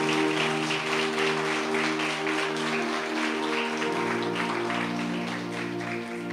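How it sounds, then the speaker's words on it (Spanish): Steady applause from a crowd at a Catholic preaching service, continuous and fairly loud, with a sustained musical tone underneath throughout. "Le damos un aplauso al Señor."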